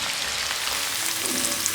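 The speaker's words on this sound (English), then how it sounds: "Once the oil is hot, add the sliced onions" Sliced onions sizzle in hot vegetable oil for a mutton korma, a loud, continuous hiss and crackle of frying close up with no voices.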